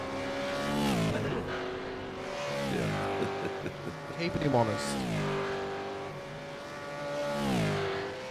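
V8 Supercars race around the track at a championship round, engines rising and falling as cars accelerate and pass in waves, heard under a commentator's steady talk.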